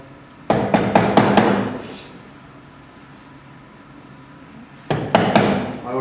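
Rapid bursts of a hammer or mallet striking a chisel to cut a mortice lock recess in a wooden door, five or so sharp close blows, a pause, then another quick series.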